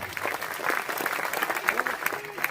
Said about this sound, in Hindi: कविता खत्म होती है, दोनों हाथ उठाकर ताली बजाएं